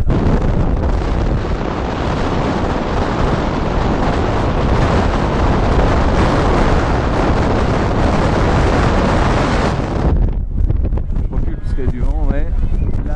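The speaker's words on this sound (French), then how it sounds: "Du vent, ouais." Strong wind buffets the microphone at the Victoria Peak lookout in Hong Kong, a loud continuous roar that cuts off suddenly near the end, followed by people talking.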